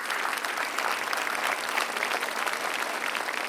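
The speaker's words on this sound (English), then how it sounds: "You all give her a round of applause." A community town hall audience for Haitian Heritage Month gives a full round of applause: loud, even, continuous clapping from a large crowd that holds steady throughout.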